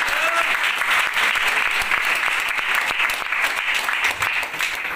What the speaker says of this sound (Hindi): उनके लिए जबरदस्त तालियां